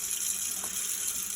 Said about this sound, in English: fill the pot with water, please.